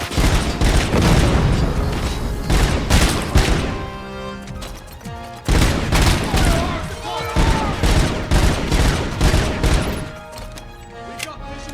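Sustained bursts of gunfire from the game RoboCop: Rogue City, loud and dense with rapid volleys and booming impacts, a brief pause mid-fight, then another heavy barrage with scattered shots.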